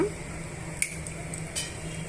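Mustard seeds and cumin tempering in hot oil in a pan that had just fried okra: a steady faint sizzle with a couple of sharp pops and clicks, close by.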